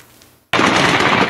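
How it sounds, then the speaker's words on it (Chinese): After a brief hush, a loud, close burst of rapid ground gunfire erupts and keeps crackling in war footage from the Russia-Ukraine conflict. "地面枪声连发"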